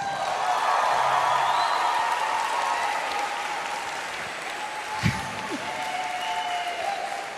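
A large audience applauds at the Miss Gibraltar pageant, a steady, full round of clapping that holds strong, then eases slightly but keeps going to the end, with a few faint crowd voices underneath.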